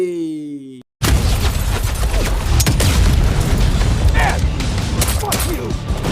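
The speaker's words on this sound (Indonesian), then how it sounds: "tiba-tiba satu orang menembak biang lala tersebut dengan RPG" An RPG rocket strikes a Ferris wheel in the action film Nobody. A brief tonal passage cuts off abruptly, and a loud sustained blast and roar of explosions and debris follows for several seconds.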